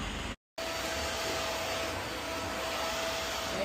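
A household vacuum cleaner runs with a steady, loud broadband whir and a faint high whine, briefly cutting out near the start before resuming without pause.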